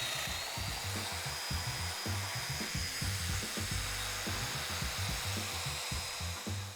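A Festool Domino joiner plunges 15 mm mortises into a plywood bottom panel for a mobile MFT cart, its steady high motor whine running throughout with repeated short low thumps as each cut is made, close and alone.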